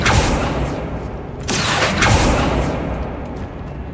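Confringo fire spell blasting in the video game Hogwarts Legacy, with loud whooshing bursts and booming impacts close up, two stronger blasts in quick succession around the middle, then a fading rumble.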